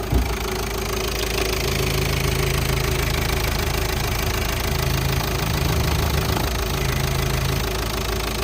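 A warmed-up Volkswagen Passat B6 engine idles with a steady, dense mechanical clatter and hum, close and loud, running evenly with no voices over it.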